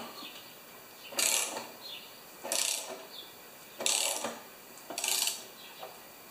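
A ratchet wrench loosening a bolt on a seized Tecumseh engine, four clicking bursts of pawl chatter spaced about a second apart, close and crisp, with quiet pauses between strokes.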